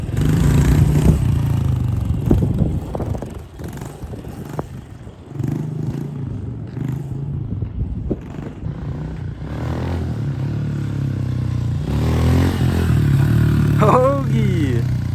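A pit bike engine revs and drones steadily during a wheelie, close and fairly loud throughout, rising in pitch toward the end, with people talking over it.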